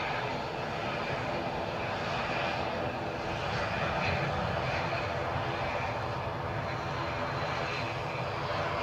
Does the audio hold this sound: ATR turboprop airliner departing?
yes